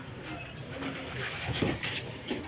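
A racing pigeon coos softly at close range, giving a few low rounded calls over a faint background hum.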